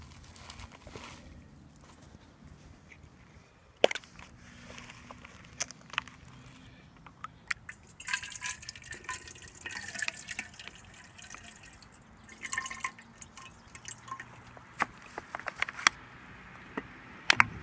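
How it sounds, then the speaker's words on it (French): Water drips and splashes into a Kelly Kettle outdoors, with intermittent pouring bursts, clinks and crinkling handling noises, close and fairly faint, no talking. "Fait que ce qu'on va faire, c'est qu'on va mettre de l'eau."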